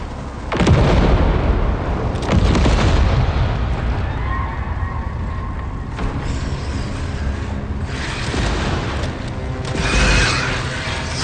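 Grenade blast in the sci-fi horror shooter Alien: Rogue Incursion, a loud boom followed by dense rumbling combat noise and further heavy bursts throughout.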